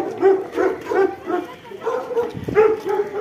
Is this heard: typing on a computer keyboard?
no